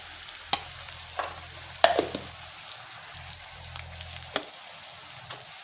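Fried onion and tomato cook in a pan as turmeric goes in, a soft steady sizzle broken by sharp clicks and scrapes of stirring, close up with no voices.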